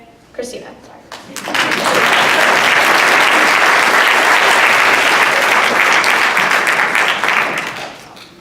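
Audience at a high school science research symposium applauding to welcome a presenter: after a brief opening voice, a loud, steady wash of clapping from a crowd builds quickly, holds evenly for several seconds, then tapers off.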